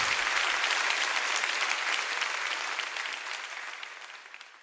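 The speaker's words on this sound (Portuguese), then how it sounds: "aplauda forte ao Senhor" Congregation at a live Portuguese-language worship service applauding loudly, a dense, close wall of clapping that gradually fades toward the end.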